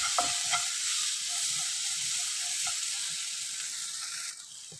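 Finely chopped tomato sautés in a pan for egg Maggi noodles, a steady close hiss and sizzle with light scraping stir taps throughout, no talking.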